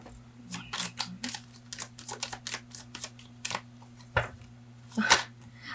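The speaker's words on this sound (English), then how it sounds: "Sometimes it takes so long to take it, so I'm just gonna shuffle two more times." Tarot cards being shuffled close up, a quick series of crisp riffling snaps and taps in short bursts, fairly soft against a faint background hum.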